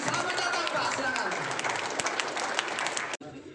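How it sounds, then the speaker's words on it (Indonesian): An audience applauds at a formal gathering in Indonesia, a dense steady patter of many hands clapping with crowd noise for about three seconds before cutting off abruptly. "Kita beri tepuk tangan yang meriah, yang meriah, yang meriah."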